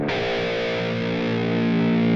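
Electric guitar played through high gain with reverb and delay effects sounds one thick, sustained distorted chord that rings loud and steady with no talking.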